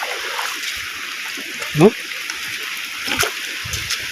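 Water splashes once as someone wades through a stream, a brief close slosh rising over a quiet outdoor background, with people talking around it.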